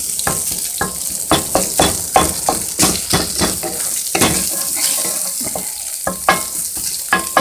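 Onion and chopped meat sautéing in a pan, a close, steady sizzle broken by repeated scraping stirs and clinks of a utensil against the pan, with no voices.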